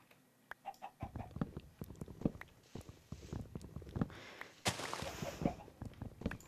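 Minecraft chickens cluck in short scattered bursts nearby, mixed with light footsteps and brief rustling, fairly quiet overall.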